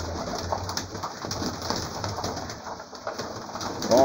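Homing pigeons feeding give low, soft cooing calls repeated close by, mixed with light pecking and rustling, with no talking.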